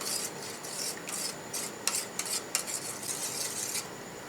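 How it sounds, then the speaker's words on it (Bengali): Yeast being stirred into a cup of lukewarm water with a spoon, giving a steady run of soft, close scraping and rubbing strokes against the cup, with a few sharper clinks, no voices. "এখন জলের সঙ্গে ভালো করে মিশিয়ে নেব।"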